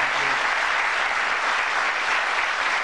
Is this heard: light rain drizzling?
no